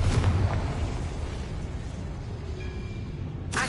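A fiery explosive blast from the Confringo spell in the video game Hogwarts Legacy, a loud rumbling burst at the start that rolls into a sustained low roar, with a sharp crackle returning near the end.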